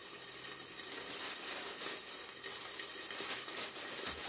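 A gluten-free flourless pizza crust sizzles steadily in a hot pan, a soft, even crackle of frying that holds throughout without any voices.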